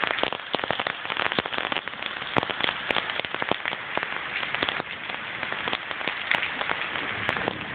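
Steady rain pours throughout a mild thunderstorm, a dense even hiss of drops hitting surfaces, close and constant with scattered sharper splats and no voices.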